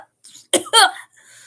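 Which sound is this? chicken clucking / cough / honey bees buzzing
cough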